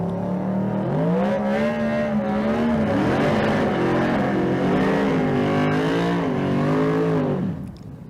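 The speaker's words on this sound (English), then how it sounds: "That looked like a pretty close drag race from here" Drag race cars at the Street Car Super Nationals in Las Vegas roar at full throttle, a loud, sustained engine howl that shifts pitch with gear changes before cutting off abruptly near the end.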